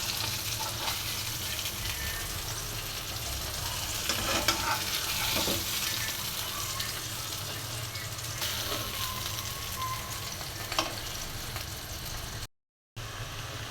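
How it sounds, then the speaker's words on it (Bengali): Fried rohu fish and boiled potato go into a sizzling curry with broad beans and are stirred, giving steady close frying hiss with scraping stir strokes and no talk. "এখন সেদ্ধ আলুটা দিয়ে দিচ্ছি। মাছটা ভাজা হয়ে গেছে, এখন তরকারিতে দিয়ে দিচ্ছি।"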